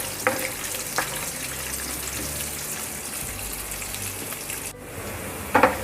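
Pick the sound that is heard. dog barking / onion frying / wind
onion frying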